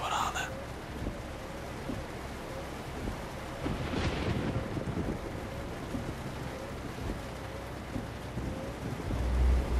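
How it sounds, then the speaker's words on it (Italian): A nighttime thunderstorm in the video game American Truck Simulator, with rain and wind hissing steadily and a rumble of thunder near the middle, moderately loud throughout. "Andiamo piano, è notte, c'è un temporale."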